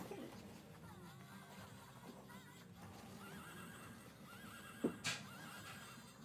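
Horse neighing in the video game Patapon, whinnies and clip-clop against a busy game soundtrack and ambient noise.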